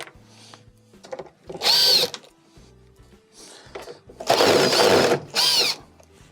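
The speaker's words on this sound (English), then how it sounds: "They're all T20 Torx screws. So start on one side and start to remove them." A power driver backs T20 Torx screws out of a Frigidaire dishwasher panel in several short whirring bursts, close and fairly loud, separated by quieter handling noises.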